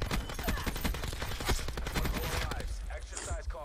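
Rapid bursts of automatic gunfire in Call of Duty Black Ops 4, dense repeated shots packed closely together, loud and steady before thinning out near the end.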